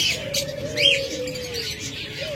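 Pet budgerigars and cockatiels chirp from a cage at a bird seller's stall, with quick, bright tweets and short calls repeating close by over a steady low background hum.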